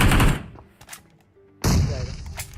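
M4 rifle fire in the video game BGMI comes in two loud, close bursts separated by a short quiet gap with faint game sounds.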